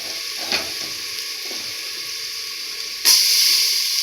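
Crushed ginger and garlic frying with browned onion in a pan for a mixed vegetable dish: a steady sizzle throughout, with a brief stirring scrape near the start and a louder burst of hissing as something hits the hot oil toward the end.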